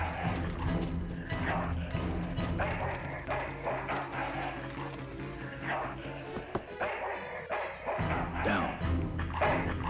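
Dog barking and whimpering in a video game, short yaps recurring through dense game music and effects, with a person speaking briefly over it.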